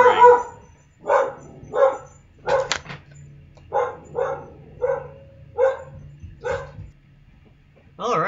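A dog barks repeatedly after a doorbell rings, about eight sharp barks in an uneven rhythm, fairly close, with a low hum in the background.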